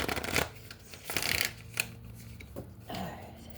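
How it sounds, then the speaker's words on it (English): Tarot cards being shuffled by hand in several quick riffling bursts separated by short pauses, close and fairly soft. "let's do 3 shuffles and get to it"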